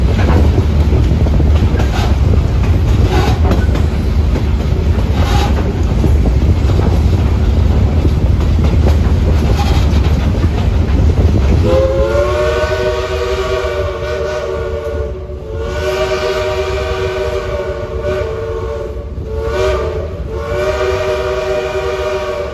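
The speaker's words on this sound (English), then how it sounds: "Listen to that Southern 3 chime on 4501 Echo." A deep three-chime steam whistle on Southern Railway steam locomotive 4501 sounds in long blasts with brief breaks, loud over the steady rumble and clatter of the moving train.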